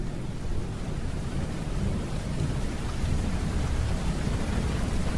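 Heavy rain with thunder in Malappuram, a dense steady downpour with a continuous low rumble throughout.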